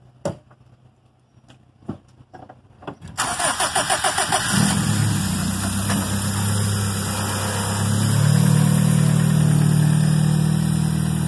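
A Honda D17 car engine with a D16Y8 intake manifold cranks with a few clicks, catches, and settles into a steady, loud idle with a slight rise in revs near the end.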